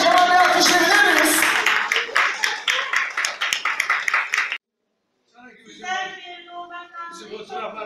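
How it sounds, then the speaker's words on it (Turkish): Crowd applause at a Turkish active-living talk, loud dense clapping that thins into scattered individual claps before stopping abruptly; after a short silence a voice begins speaking. "kocaman bir alkış verebilir miyiz?"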